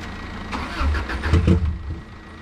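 A Subaru Impreza with a heavy misfire struggles to start, giving a few uneven cranking bursts and rough low rumbles that rise and fall over a couple of seconds.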